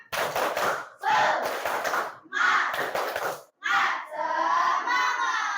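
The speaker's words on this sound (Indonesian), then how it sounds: "habis ini kita tepuk semangat dulu ya. Tepuk semangat." A class of children chants a spirit clap together, loud shouted voices in four bursts with clapping and thumps, separated by brief pauses, then a sustained group vocal tone at the end.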